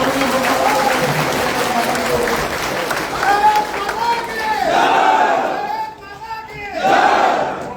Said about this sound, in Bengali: তাই আমি চাই সবাই করতালি দিয়ে